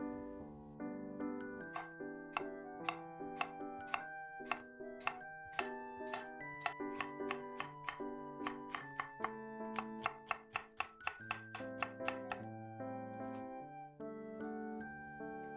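A knife slices a cored, medium-sized apple into thin julienne strips on a board. The chops come in quick, steady, evenly spaced taps over continuous background music.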